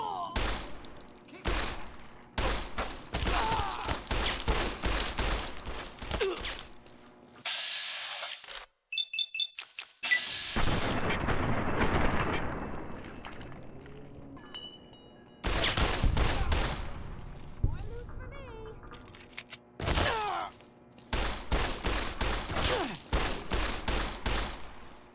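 Gunfire in the video game Fallout: Tale of Two Wastelands, with repeated sharp shots and short volleys cracking out over about twenty-five seconds, loud and close, broken by a couple of brief lulls.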